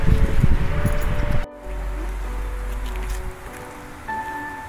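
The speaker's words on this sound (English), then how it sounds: "Or maybe it's just too windy outside." Wind buffets the microphone with a rough, rushing roar that drops off abruptly partway through, leaving a low hum and faint tones.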